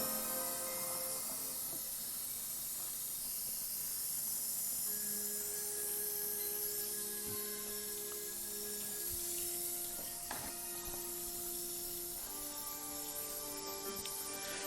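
Running water rinses developing film during the final rinse stage, a steady broadband hiss with faint tonal hum lines continuing evenly throughout.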